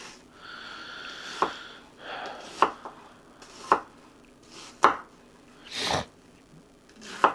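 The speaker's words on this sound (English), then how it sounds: "because some people have trouble cutting onions, just one, go down one way" A knife chops through an onion on a cutting board in about six sharp, evenly spaced strokes, close and distinct, with sniffles from the cook in between.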